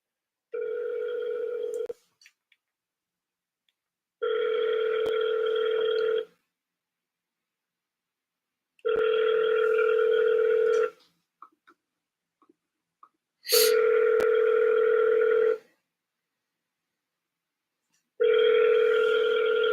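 An outgoing phone call rings on a cold call, with five long, evenly spaced ringback tones separated by silence and no speech.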